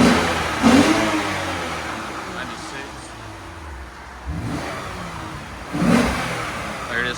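2015 Lexus RC350 F Sport coupe with its 3.5L V6 on the stock exhaust, revving in two rising pulls from idle, loud and close, with talking in between.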